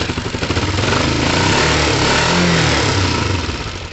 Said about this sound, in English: Right now, this bike would probably start on one cylinder.